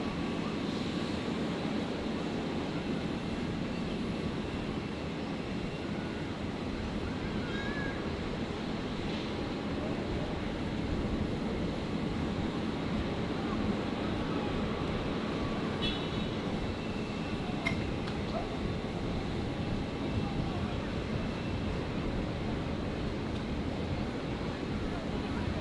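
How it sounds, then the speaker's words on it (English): A Beechcraft King Air 200 twin turboprop of the Royal Flying Doctor Service arrives on runway 01 right at Brisbane International Airport, giving a steady, moderately distant engine roar with broadband noise for the whole stretch. "The Beach King Air 200 returning from Harvey Bay."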